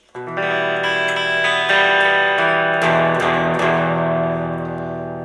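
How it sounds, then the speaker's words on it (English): Sustained electric guitar chords with a mildly gritty, overdriven amp tone, ringing steadily and changing chord every second or so, no voices. "I've got some gain set on the amplifier actually, just to give it a bit of grittiness"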